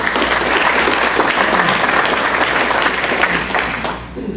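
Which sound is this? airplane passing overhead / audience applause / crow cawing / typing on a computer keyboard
audience applause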